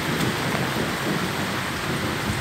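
Steady rain falling outdoors on a bee farm, a dense, even hiss of drops on surfaces, continuous and fairly loud with no voices.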